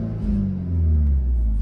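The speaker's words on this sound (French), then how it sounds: "Alors, petit démarrage sans clé bien sûr" Keyless start of a 300 hp Volkswagen T-Roc R with an Akrapovic exhaust: a deep engine rumble close by swells after a brief moment and settles into a steady, throaty idle.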